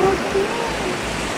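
A stream in Puerto Rico rushes steadily, giving an unbroken, close wash of flowing water. A brief voice sounds faintly at the start.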